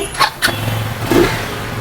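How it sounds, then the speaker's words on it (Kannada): A used motorbike kicks over on its electric self-start, with a couple of short starter bursts followed by a low, steady idle close by. "ಒಂದ್ ಸೆಲ್ಫ್ಗೆ ಗಾಡಿ ಸ್ಟಾರ್ಟ್ ಆಗುತ್ತೆ ಸರ್"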